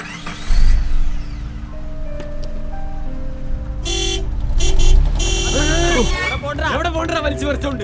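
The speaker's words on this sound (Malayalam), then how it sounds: "നീ ഹോൺ അടിച്ചോണ്ട് ഞാൻ അടിച്ച ഹോൺ നീ കേൾക്കാത്തെ?" A car horn honks in short broken blasts amid traffic noise, then people start talking.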